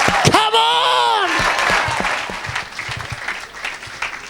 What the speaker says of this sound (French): Donne une grande acclamation à Jésus de Nazareth.